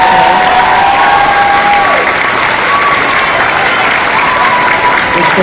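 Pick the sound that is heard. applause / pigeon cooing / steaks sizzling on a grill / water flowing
applause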